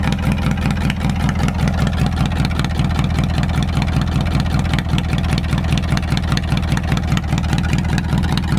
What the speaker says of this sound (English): I think a lot of that shaking is the uneven fire of the leaky head gasket.